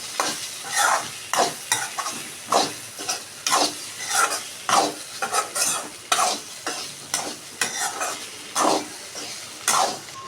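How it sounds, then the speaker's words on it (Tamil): Brinjal poriyal, an eggplant stir-fry seasoned with turmeric and chilli powder, stirred in a hot pan. A spatula scrapes in a steady rhythm of repeated strokes over a soft sizzle, close and clear, with no talking. "இப்போ 2 கத்திரிக்காயில் சாறுற மாதிரி கிளறி விட்டுக்கலாம்"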